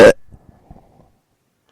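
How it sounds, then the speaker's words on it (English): A short, loud belch erupts right at the start, presented as a comedy bit's weekly belch, followed by faint scattered crowd murmur and low thumps. "the insidious belch of the week"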